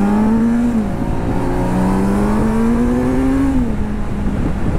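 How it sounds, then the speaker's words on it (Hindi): A Kawasaki Z900 motorcycle rides with a loud, bassy exhaust, a steady close engine drone with rising and falling revs through gear changes, continuous throughout with no talk. "मेरा जो एग्जॉस्ट है ना कुछ ज़्यादा ही बेसफुल लाउड साउंड कर रहा है"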